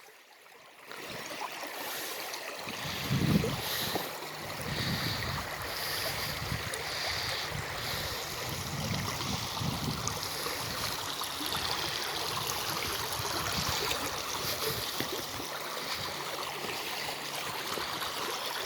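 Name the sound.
water flowing over rocks in a stream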